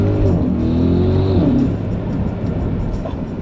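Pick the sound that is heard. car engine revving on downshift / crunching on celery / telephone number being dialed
car engine revving on downshift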